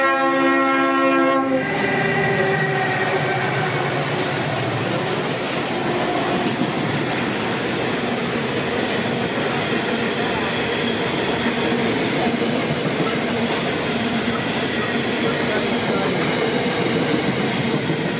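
A Pacific National grain train led by locomotive BL30 blasts a loud horn at the start, then rolls past with a sustained, close rumble and clatter of wagons that continues to the end.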